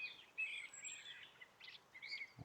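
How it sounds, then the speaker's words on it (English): Birds sing beside a stream on the Heddon's Mouth circular walk in Devon: bright chirps and trilling phrases come in quick bursts, fairly close and clear over a faint, steady outdoor hush. "and the birds"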